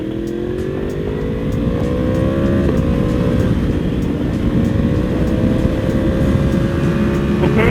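A 2022 BMW M1000RR motorcycle engine accelerates hard in fourth gear, a loud, close, steady roar whose pitch climbs through the pull with a brief dip at a shift.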